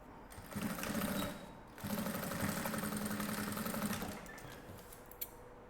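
A sewing machine stitches a trapeze-shaped necessaire box, running in two close, steady bursts of fast mechanical whirring with a brief pause between them and no talk.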